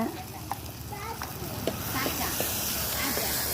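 Onions sauté in a pan for drumstick thokku, a continuous close sizzle and hiss with scattered clicks and scrapes of stirring throughout.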